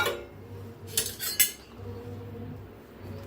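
Dry semolina poured from a large bowl into an empty kadhai for dry roasting, giving a short close rattling pour with a couple of sharp metallic clinks, then low quiet background.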